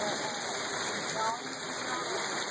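Hail falling outside during a hailstorm in Seymour, Indiana, making a steady, dense hiss of pellets striking the ground and surfaces. The sound is continuous and rain-like, holding even for the whole stretch.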